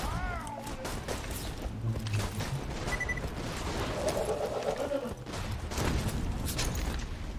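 Scattered enemy gunfire from distant foes in Borderlands 2, irregular crackling shots mixed into dense game noise, mechanical clatter and a low background rumble throughout.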